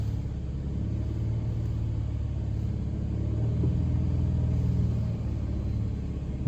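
A car engine runs steadily at a held 2,000 RPM while powering a DC-to-AC pure sine inverter used as a home generator; a low, even idle-like drone continues throughout with no voices.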